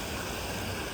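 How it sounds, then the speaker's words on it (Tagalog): Water in a river rushes in a steady, dense broadband wash that stays close and unbroken, heard alone with no voices. "ito po yung ilog"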